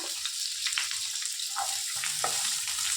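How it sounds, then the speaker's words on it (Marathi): Green chillies and onion fry in a pan and are stirred, giving a steady close sizzle with a few soft scraping strokes and no voices. "चांगलं भाजून घ्या हलवून."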